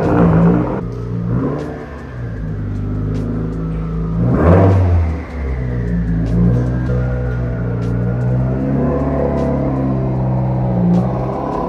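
A Subaru WRX Bugeye, left abandoned in a barn for seven years, runs as it pulls out of a garage. Its engine makes a low, rumbling idle with a few swelling revs, heard close and continuous.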